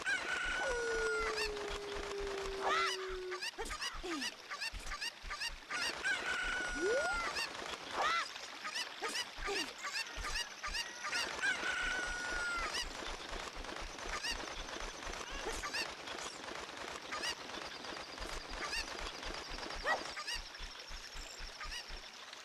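Chickens in the Ocarina of Time video game, a rooster crowing several times with clucks and honk-like squawks over a constant stream of rapid clicking game effects.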